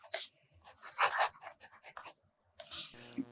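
Extra fine nib fountain pen scratching across the paper of a Portage reporter's notebook, with a series of close, soft strokes in short bursts and brief pauses between them.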